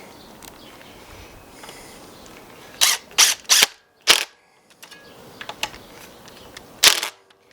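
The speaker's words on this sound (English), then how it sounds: "time to put the screws in here" Screws are driven into a wire vise on a grape vine trellis in several short, sharp mechanical bursts close by, separated by quiet gaps with faint background noise.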